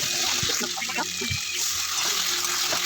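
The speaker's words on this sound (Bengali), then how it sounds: "আমি একটু জল দিয়ে দিলাম যাতে আলুটা মানে অল্প জল দিয়েছি যাতে আলুটা সেদ্ধ হয়" Water poured into a pan of potato curry being cooked for a Bengali dhokar dalna dish, a steady splash and trickle at moderate level throughout.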